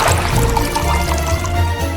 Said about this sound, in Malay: Isi dengan air.